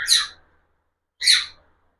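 Two sharp, high-pitched squawking calls from lutino cockatiels, loud and close, separated by about a second of silence.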